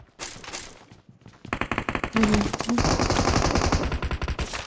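Rapid automatic gunfire from a mobile shooter video game, loud and close, in dense sustained bursts with a few single shots first.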